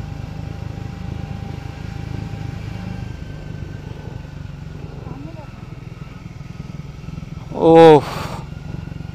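Motorcycle riding on a mountain road near Mirik, with a steady low engine drone and wind rumble throughout, and a short burst of a voice near the end.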